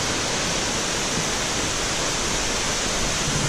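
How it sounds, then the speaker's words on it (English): A jungle waterfall near Chiang Mai, Thailand gives off an even, hissing wash of falling water. The sound is constant and moderately loud, with no talking. "And there's another waterfall."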